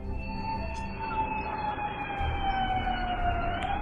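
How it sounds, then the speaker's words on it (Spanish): Emergency sirens wail in the background during a drone attack in Russia, a sustained rising and falling tone over a low rumbling ambient noise, fairly distant and steady. "También se puede escuchar claramente el sonido de las sirenas de fondo"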